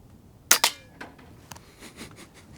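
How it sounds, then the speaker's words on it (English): A .22 caliber airgun fires a pellet at a Stanley Cup, giving one sharp close crack and a quick second snap, followed by a few faint ticks and knocks as the target is struck. "safety off. 22 cal pellet at the cup."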